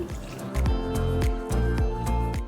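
Water pours and splashes into sugar in a pot while making sugar syrup for malpua, with repeated liquid drips and squishy plops in an irregular rhythm, close and fairly loud, no talking.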